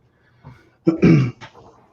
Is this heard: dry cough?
yes